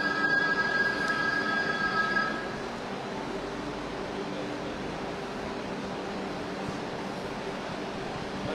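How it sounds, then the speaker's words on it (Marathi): A train pulls into Dadar station in Mumbai during heavy monsoon rain, a steady close rumble of rolling wagons with a thin wheel squeal fading after the first seconds. "सध्या आपण बघतोय एक ट्रेन येताना पाहायला मिळते."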